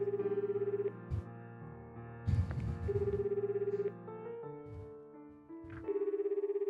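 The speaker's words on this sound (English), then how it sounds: "Panicking, I press the call button and the phone begins to ring." A phone rings out in repeated steady electronic bursts after the call button is pressed, with musical tones and soft rustling sounds between the rings.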